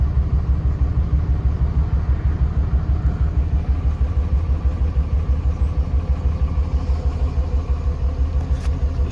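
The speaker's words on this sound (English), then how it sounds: "So this truck runs extremely rough." A Dodge 2500 truck's 5.9L Cummins diesel idles extremely rough, a loud, close, steady low-pitched chugging with an uneven rhythmic knock throughout and no voices.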